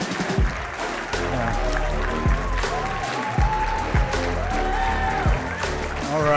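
Audience applause welcomes a speaker to the stage at a young leaders summit: steady, dense clapping from a large crowd with someone talking over it through a microphone.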